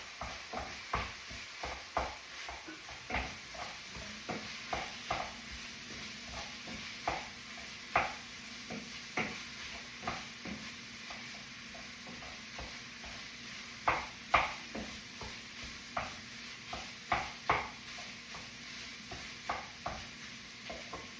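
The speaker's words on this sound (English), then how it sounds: "I'm just going to go give our ground beef mixture a little stir." Ground beef mixture stirred in a pan, a spoon scraping and knocking in a steady series of short strokes close by, over a low sizzle, with no talking.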